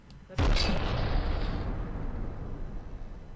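A cannon fires in the naval building game From The Depths: one sudden, heavy boom that rolls off into a long, fading rumble, heard alone without speech.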